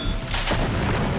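A grenade explosion in the video game Dark War 2, a single loud, heavy boom that fills the moment and rumbles briefly, with no talking.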